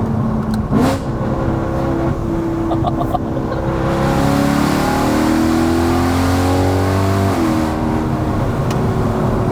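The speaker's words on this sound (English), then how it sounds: "It just builds the revs so nicely." A BMW E92 M3 engine revs up and down repeatedly, rising smoothly through the range with a brief crackle near the start, loud and close with no talking.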